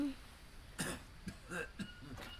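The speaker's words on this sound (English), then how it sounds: "Don't you cough on me." A person in the Green Hell survival game coughs a few times in short bursts at close range, amid voices of players talking.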